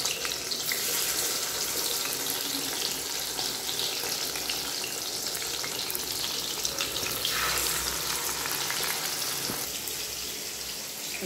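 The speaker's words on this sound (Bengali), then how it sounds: "আমি এখন মাছ ভাজবো।" Fish frying in a pan in a home kitchen, a loud, steady, hissing sizzle that continues close up throughout with no talking.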